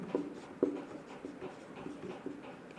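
Chalk or marker writes on a board in a classroom, making a few short scratchy strokes with sharper taps at the start, faint against quiet room noise.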